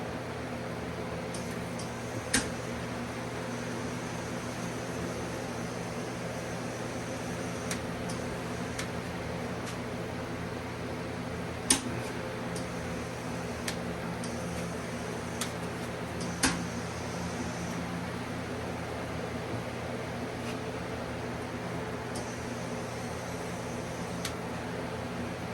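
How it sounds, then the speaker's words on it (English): A powder coating curing oven runs at 400 degrees, giving off a steady, low mechanical hum with a few sharp ticks and clicks scattered throughout, and no one speaking. "This is going to be in the oven at 10 minutes at 400."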